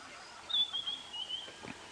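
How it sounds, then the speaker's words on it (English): A white-browed scrub robin calls on an early-morning safari drive, giving a faint, thin, high whistled phrase that wavers along for about a second, with soft low rustling and faint noises in the background. "the white-browed scrub robin."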